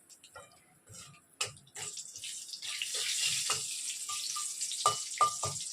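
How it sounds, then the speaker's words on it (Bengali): Nigella seeds (kalo jeera) tempering in hot oil left over from frying pointed gourd, giving a close, steady sizzle with scattered sharp pops and crackles that grow busier after the first second. "ওই তেলেই এবারে আমি কালো জিরে একটু ফোড়ন দিয়ে দিচ্ছি"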